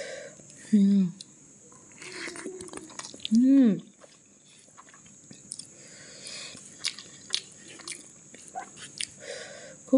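Spicy chili peppers and food being bitten and chewed close to the mic, with a few crisp crunches and wet chewing sounds between brief vocal noises, over a quiet room hiss.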